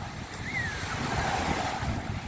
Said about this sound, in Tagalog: Maalon siya guys.